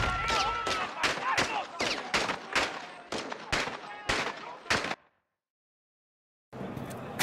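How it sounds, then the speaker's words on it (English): Repeated gunshots from the video game Call of Duty: Modern Warfare 2, a steady run of sharp, loud shots about every third of a second, then abrupt silence before game sound resumes. "We're taking fire."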